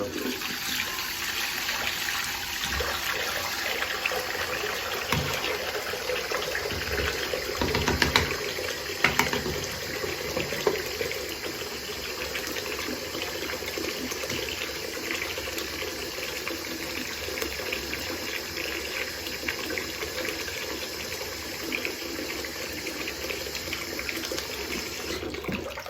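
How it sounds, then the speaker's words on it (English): Hot water runs steadily from a tap onto Walker Tape Extreme Hold for close to half a minute. The gushing is loud and continuous, with a few faint knocks partway through. "I'll run it under hot water."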